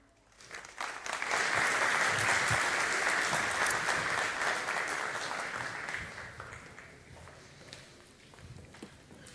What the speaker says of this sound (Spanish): quisiera que recibamos a la palabra del Señor con un caluroso aplauso